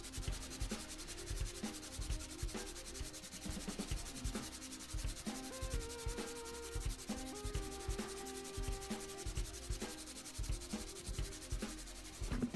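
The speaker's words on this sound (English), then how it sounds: "I've got it all sanded the way I want it" Steady, close rasping of sandpaper rubbed back and forth over a rosewood lock pick handle, a continuous scratchy texture with rhythmic strokes and no voices.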